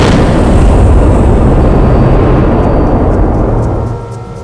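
A huge mid-air explosion, an aerial burst on the scale of about 20 million tons of TNT, rumbles as a dense, continuous low roar that stays loud and then slowly fades away.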